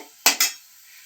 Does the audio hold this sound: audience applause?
no